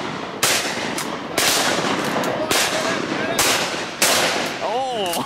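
Shotgun shots at ducks while hunting, five sharp loud blasts spaced about a second apart, the last followed by a duck call and outdoor wind noise.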